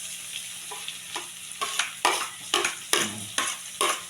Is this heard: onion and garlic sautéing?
yes